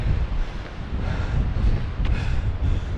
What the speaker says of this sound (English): it keeps on going up, and it's really windy